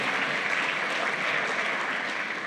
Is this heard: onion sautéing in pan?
no